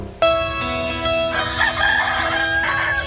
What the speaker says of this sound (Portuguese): Acordar com os galos